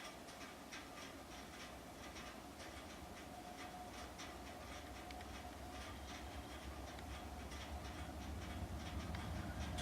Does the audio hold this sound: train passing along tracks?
yes